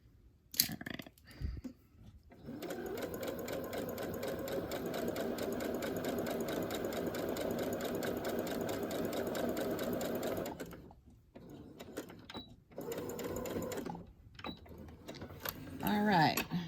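A sewing machine stitches fabric for a winter journal cover, a loud, even buzzing run for several seconds, then short bursts of stitching with pauses, and a person speaks before and between the runs.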